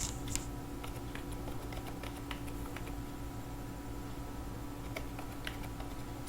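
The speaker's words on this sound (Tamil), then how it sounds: "இந்த ஐபி அட்ரஸை அப்படியே இங்கே டைப் பண்ணுங்க" Someone types an IP address on a laptop keyboard, sparse soft keystrokes scattered over a steady low hum, faint and with no voices.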